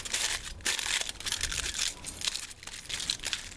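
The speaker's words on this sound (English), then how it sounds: "kind of like wrapping a present, we just wrap and fold our foil over" Aluminium foil is wrapped and folded over a prototype chocolate bar, giving close, bright crinkling and rustling in repeated bursts with no talk.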